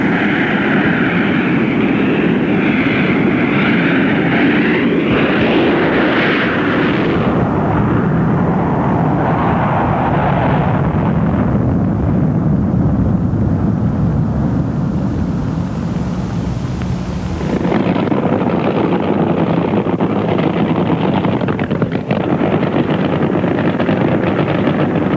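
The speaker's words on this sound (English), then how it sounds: "the jet-powered monsters of drag racing, threaten to break a 350-mile-per-hour barrier" A jet-powered drag racing car roars with a continuous, loud, broadband blast that shifts in tone and then cuts sharply before resuming, filling the whole stretch with no talking.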